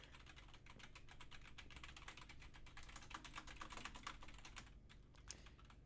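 A computer keyboard is typed on rapidly and continuously, close and fairly quiet, with dense overlapping key clicks and a brief pause near the end.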